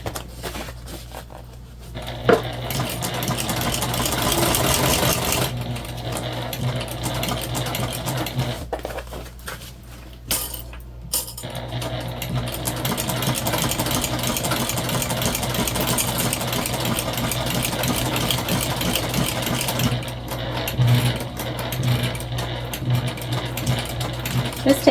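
A sewing machine stitches a backpack near the gusset seams with a continuous mechanical whir and rattle, briefly easing off around the start and again near ten seconds before running steadily on.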